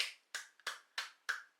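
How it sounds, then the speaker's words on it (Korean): Hand claps ring out in a steady series, six crisp close claps spaced about a third of a second apart, clear and isolated with no talking. "박수 한번 더 치도록 하겠습니다"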